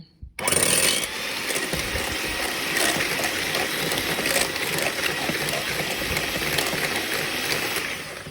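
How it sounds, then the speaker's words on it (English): An electric whisk beats eggs and sugar in a bowl, giving a loud, continuous whirring buzz that starts abruptly and runs steadily to the end with no talking. "we're going to use electric whisk to mix the two together"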